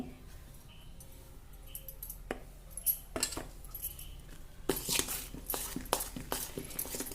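A spoon clinks and scrapes against a metal bowl while scooping flour into leftover idli batter for vada, with scattered sharp taps early on and a busier run of scraping clatter in the second half, fairly close.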